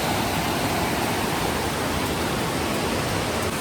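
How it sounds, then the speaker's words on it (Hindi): The waterfall at Sahastradhara in Dehradun pours steadily, a dense, loud, unbroken rush of falling water with no voices over it. "देखो यहाँ पे झरना है"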